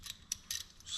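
A ratchet snugs up the lug nuts on a 2012 Chevy Silverado 1500 wheel, giving short bursts of quick metallic clicking with brief gaps between them, close and fairly quiet with no talk.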